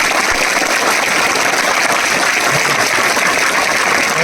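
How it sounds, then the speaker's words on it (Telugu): A hostel crowd at a school event claps in a dense, even burst of applause that holds steady for several seconds without any voices over it. "ఒక్కసారి గట్టిగా చప్పట్లు కొడితే"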